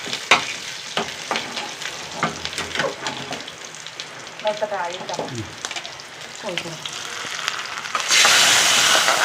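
Dried red chillies and curry leaves frying in oil for a tempering, crackling and sputtering with scattered pops and a brief voice partway through, ending in a louder rush of sizzle.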